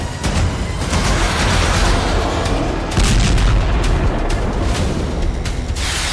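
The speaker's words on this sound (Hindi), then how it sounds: "इजराइल की वायु सेना ने गाजा स्ट्रिप पर धुआंधार बमबारी कर दी" Israeli air force bombing over the Gaza Strip makes a loud, continuous, heavy rumble of booms and blasts that rolls on without pause.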